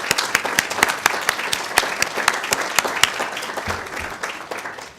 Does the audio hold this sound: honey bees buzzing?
no